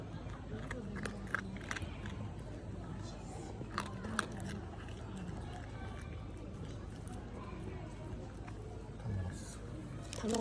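A dog chews food close by, with scattered crunchy bites over a soft background of voices and rustle.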